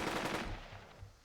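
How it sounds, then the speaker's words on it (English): A short machine-gun burst from the video game Burden of Command, a rapid stutter of muffled shots at moderate volume that trails off within a second, with no talking. "we spend another order to activate the machine gun. That's a sound to hear and fear"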